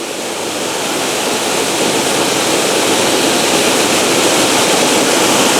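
Steady, roaring rush of a waterfall at Nant Mill, Wales, loud and continuous, a dense broadband wash with no voices.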